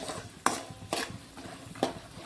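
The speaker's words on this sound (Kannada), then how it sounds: "ಇವಾಗ ಕೊಬ್ಬರಿ ಕೂಡ ಒಂದು ಸ್ವಲ್ಪ ಫ್ರೈ ಮಾಡ್ಕೊಳಮ್ರಿ" Dry coconut pieces and peanuts fry in oil while being stirred, three distinct scraping strokes against the pan rising over a soft background sizzle.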